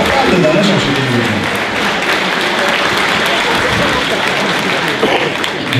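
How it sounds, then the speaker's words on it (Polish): An audience at a regional sports champions gala in Lublin applauds in a dense, loud, continuous burst that holds steady throughout. "Brawa oczywiście, proszę państwa"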